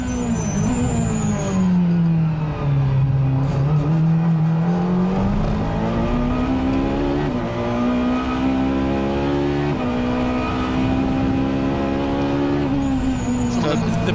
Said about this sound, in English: Let's listen to the V8 mid-engined note of this Ferrari.